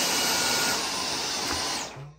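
A Dyson Omni-glide cordless stick vacuum runs at full power in normal mode, a loud, steady close whine and airy rush that continues unbroken before cutting off abruptly at the end.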